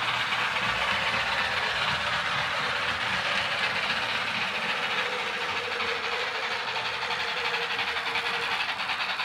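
A Penn Line 2-10-0 HO scale model steam locomotive with DCC sound runs steadily along its track, a continuous mechanical hiss and rattle with faint rhythmic clicking, close and even throughout.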